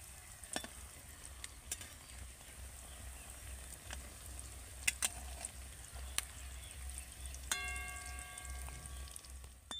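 Pieces of green plantain shaped as a vegetarian 'fish' sizzle steadily in hot oil, with a soft continuous crackle and a few sharper pops and spatters, close and fairly quiet, with no talking.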